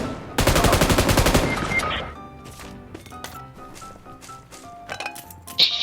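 Video game gunfire opens with a fast, loud burst of automatic shots, then gives way to scattered single shots and clicks at lower level, ending with one sharp louder report.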